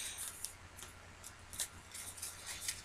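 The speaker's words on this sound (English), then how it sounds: "and then just cut it off a little bit past" Scissors cut through paper for a handmade pocket craft, making a string of faint, quick, close snips spaced irregularly over a quiet background.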